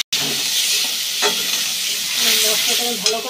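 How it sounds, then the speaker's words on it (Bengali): Ground spice paste blended with tomato, cumin and bay leaf sizzles loudly in a hot pan while being stirred, a continuous close frying hiss with occasional scraping knocks. "মশলাটা আমি ভালো করে কষিয়ে নেব।"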